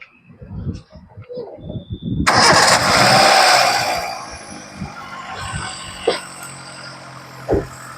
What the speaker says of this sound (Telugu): ఒకసారి మనకు ఇంజన్ సౌండ్ చెక్ చేసుకుందాం మనం